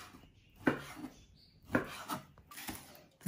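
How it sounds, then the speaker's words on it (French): A knife cuts beef into small pieces for marinated brochettes, three firm strokes against a board at a slow, steady pace, close and clear with light rubbing in between. "Voilà, on coupe des petits morceaux comme ça."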